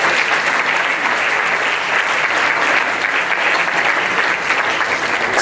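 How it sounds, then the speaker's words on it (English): Applause at a conference on collective impact, welcoming newly joined backbone leaders. A full room claps loudly and evenly throughout, with no talking over it. "So can we give them a round of applause, please?"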